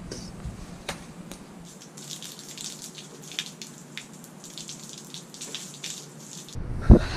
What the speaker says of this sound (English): Just went on a run, so I'm gonna rinse off with the hose